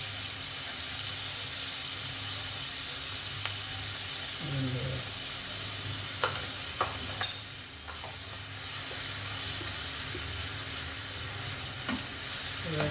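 Green chili, garlic and cumin frying in a pan for paneer paratha filling, giving a steady close sizzle and hiss with occasional stirring scrapes and clinks, no talking.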